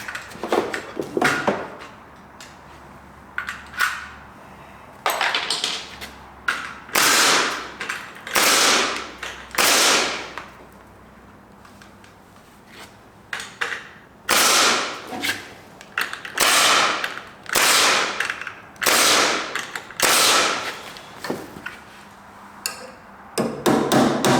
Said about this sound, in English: So I'm going to put the nails in.